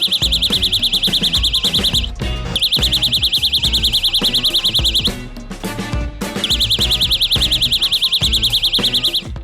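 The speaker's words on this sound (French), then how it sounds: "Il y a un bouton rouge vif sur la poignée qui, lorsqu'on appuie dessus, active un signal sonore audible à 180 mètres de distance." A self-defense baton's alarm, triggered by a bright red button on its handle, blares a loud, piercing pulsing tone in long bursts with brief gaps, over busy background sounds.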